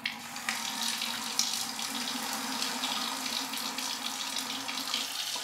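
Warm water running steadily from a kitchen tap into a sink, a constant close splashing hiss with no voices over it.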